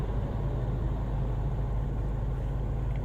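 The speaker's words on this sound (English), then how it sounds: "Traffic is a bit more crowded." Road traffic on a busy day, heard as a continuous low rumble of passing vehicles and tyre noise from inside a moving vehicle, steady and even with no distinct pass-bys standing out.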